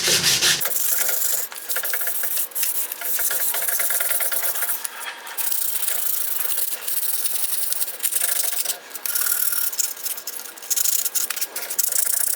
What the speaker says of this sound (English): So let's finish sanding.